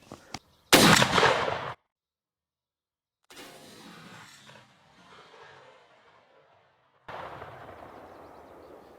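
A Benelli M2 shotgun fires Kent Ultimate Diamond Shot number 5 lead turkey loads outdoors while patterning. One loud, close blast cuts off sharply, followed by quieter bursts of outdoor noise.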